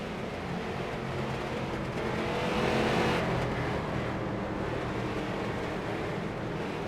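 A field of race cars circles behind a pace car in a 30-lap fun race, engines droning at moderate distance in a steady blended roar that swells slightly midway as the pack passes, then settles.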